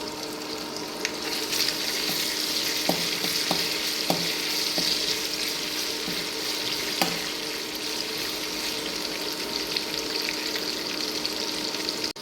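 Ginger and garlic frying in oil in a pan, a continuous bright sizzle with occasional sharp clicks of a spoon against the pan, steady and close throughout.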